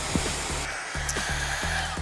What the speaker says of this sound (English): If you're looking to splurge, you can't do much better than Dyson's Supersonic Hair Dryer. It's also a great impromptu wind machine.